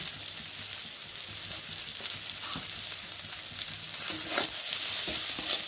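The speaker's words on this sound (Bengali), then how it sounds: "দিয়ে মশলাটা ভালো করে কষিয়ে নেব।" Tomato, turmeric and salt masala for egg curry fries in a pan with a steady sizzle. Now and then a spoon stirs and scrapes through it, close by and with no talk.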